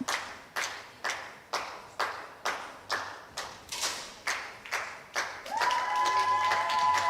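Teammates at a 10m air rifle final cheer and clap in a steady rhythmic unison beat, about a dozen loud sharp claps, followed by a denser swell of crowd noise with a tonal ring.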